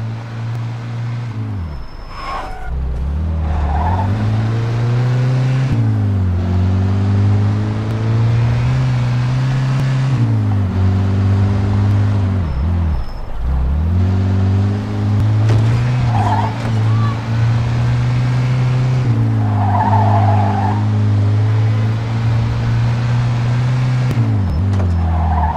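A car being driven in the video game Mafia II, with a loud, steady engine drone that swells and dips as the car speeds up and slows down, heard throughout with no voices.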